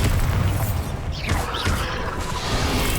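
A Bombarda blasting spell explodes in Hogwarts Legacy with a booming burst, a rushing whoosh and crashing debris over loud game ambience, short and dense.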